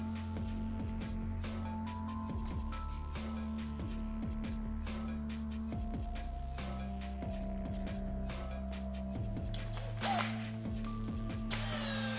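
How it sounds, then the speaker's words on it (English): A 3.2mm drill bit bores through the bottom housing of a 3D printer hot end on a Voron CNC tap, a steady close power-drill whine with shifting pitch, running alone throughout with a few brief scrapes. "I'm just going to drill through that bottom housing of the hot end there, because the bolts just won't go through"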